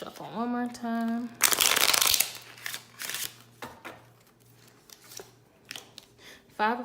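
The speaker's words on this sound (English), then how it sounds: "Let's shuffle one more time." Playing cards are shuffled in a short burst of riffling and flicking, followed by quieter card handling and taps, with a voice speaking briefly at the start.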